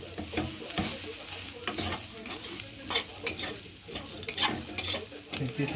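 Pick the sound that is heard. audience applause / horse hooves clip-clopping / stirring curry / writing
stirring curry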